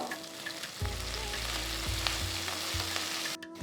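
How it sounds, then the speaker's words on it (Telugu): Mustard seeds splutter and sliced onion sizzles in hot oil in a pan, along with green chillies and curry leaves, for a Rayalaseema pulagam chutney. The frying is steady and close, with sharp pops and the scrape of stirring and no voices. "ఆవాలు చిటపలాడటం స్టార్ట్ అయింది ఇప్పుడు నేను ఒక పెద్ద ఉల్లిపాయని స్లైస్ చేసి వేస్తున్నాను"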